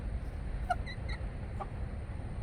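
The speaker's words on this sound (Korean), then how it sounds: "꼬꼬닥이 와서 방해하고 있네." A chicken clucking among other farm animals, a few short faint clucks over a steady background hiss with no talk.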